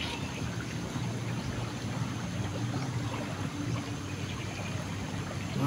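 Steady broadband rush of a big river flowing, a constant wash of moving water with no breaks, moderately loud and heard alone.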